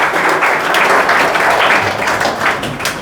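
A classroom of students claps loudly and steadily together, a dense continuous patter of hand claps close by, with no speech over it.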